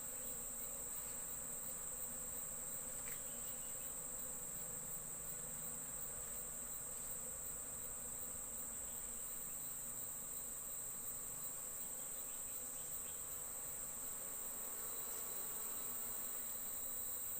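Honey bees buzz around a hive during a honey harvest, a dense, even drone that continues throughout alongside a steady high insect tone, with no voices.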